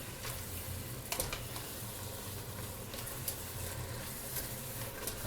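Chili with chipotle and garlic cooks rapidly in a pan, a steady close sizzle and patter running throughout, with a few sharper pops.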